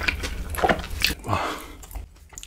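Biting and chewing into sweet-and-spicy yangnyeom fried chicken during a close-miked eating session, a few crunchy bites and wet chews, loud and close, without talk.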